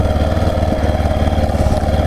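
A Yamaha XT 660R single-cylinder motorcycle engine chugs steadily on an enduro single track, a loud, close, low pulsing thump with slight throttle variation.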